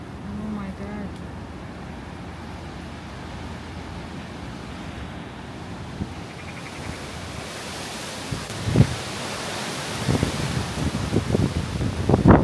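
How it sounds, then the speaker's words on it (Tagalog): Strong typhoon wind roars steadily in broadband gusts around a house during Typhoon Uwan, building in force with rattling bursts toward the end, while a person talks intermittently. "Sobrang lakas ng hangin."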